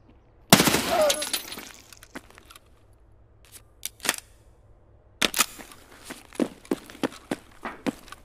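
A Big-Pipes grenade launcher fires in Escape From Tarkov on the Reserve map, starting with one loud blast. Quieter sharp cracks and clicks follow in short bursts, then a run of evenly spaced reports, all close and separated by silence.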